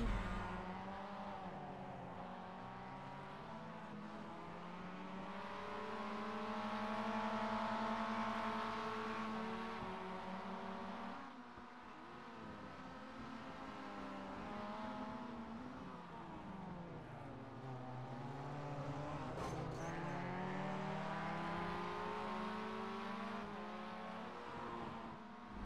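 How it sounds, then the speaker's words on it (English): Mazda race cars in an iRacing sim race, engines droning steadily and rising and falling through gear changes as the pack runs close together, alone without talk. "Good clean racing in Mazdas."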